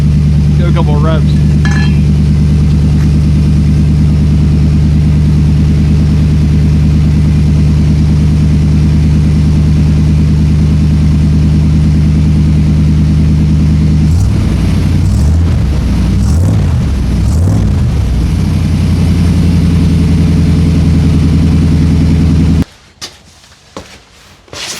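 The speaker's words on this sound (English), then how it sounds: "Get a couple of revs." A Chevy Silverado pickup with a newly installed Magnaflow exhaust idles loudly with a deep, steady rumble, then revs up briefly in a few surging bursts before settling and cutting off near the end.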